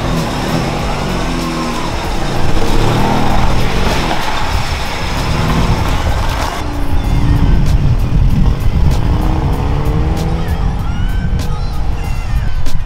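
A car's engine runs loudly as the car is backed out, with uneven revving and rumbling that swells and eases throughout, close by, with no talking.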